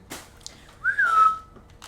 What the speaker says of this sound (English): I keep doing the cat call whistle.